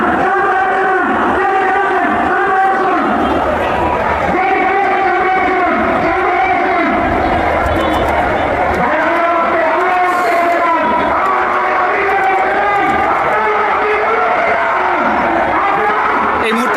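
Huge crowd at the funeral procession of student leader Usman Hadi in Bangladesh: a loud, dense roar of many voices with rhythmic group chanting that carries steadily throughout.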